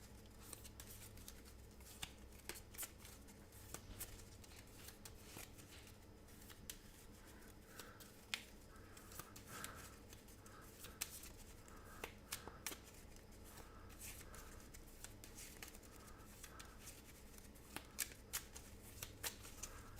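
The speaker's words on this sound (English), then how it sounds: "Okay, shuffled up." A deck of Marvel Champions cards being shuffled during a tabletop card game session, a steady stream of soft riffling and snapping card noise lasting the whole stretch, close up with no talking.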